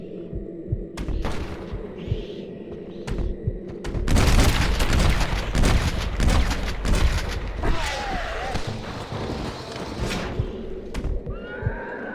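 Gunfire in the Red Dead Redemption Undead Nightmare video game: scattered sharp shots, then a dense, loud burst of firing, mixed with a horse's whinny and hooves.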